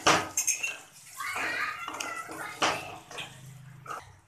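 Fajita filling with tomato, chili sauce and ketchup being sautéed in a pan, with soft sizzling and several clinks and scrapes of a utensil against the pan, close and fairly quiet.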